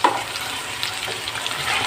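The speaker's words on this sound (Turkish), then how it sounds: "Biraz kabak kavrula dursun." A steady hiss of zucchini sautéing in a hot pan, with faint stirring scrapes, continuous and close.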